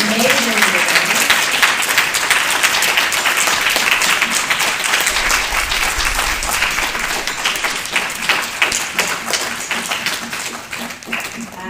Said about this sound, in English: let's give another round of applause for Robyn's amazing reading